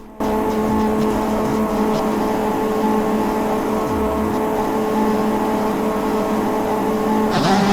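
Several motocross bike engines at a race start in the MX Bikes video game, a loud, dense, sustained buzzing drone of revving motors that holds steady throughout.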